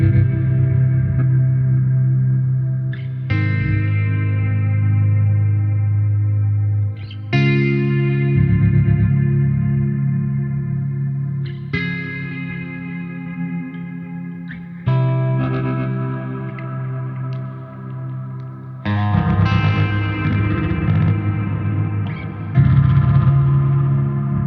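Guitar notes run through a Hologram Microcosm pedal on its Interrupt preset, patch 2, for ambient soundscapes: repeated chord swells with heavy effects, glitchy chopped repeats, echo and reverb, each swell restarting sharply every few seconds, loud and with no talk.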